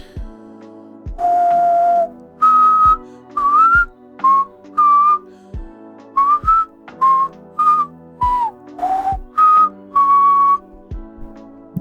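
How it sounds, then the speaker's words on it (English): Someone whistles into a close microphone, a bright tune of short and held notes in a quick phrase over a soft background hum. "I'll record myself whistling."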